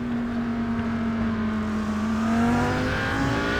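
Audi race cars at Spa-Francorchamps in the iRacing sim give a steady, close engine drone with a sustained tone that climbs slowly, suggesting an onboard view under acceleration. No other sounds break through.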